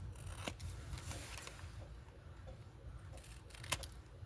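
Scissors snip the mitered bottom corners of a small paper window envelope, a few soft, close cuts spaced across a quiet tabletop scene with no talking.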